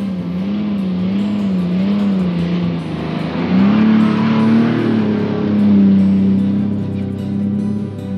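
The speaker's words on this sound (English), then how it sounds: "the only way to get over was for the cruiser to use all the cylinders that it has to offer" A Toyota Land Cruiser strains along a rough two-spur track in Botswana, the engine a loud, sustained drone that climbs and eases as the revs rise over the bumps, with no voices.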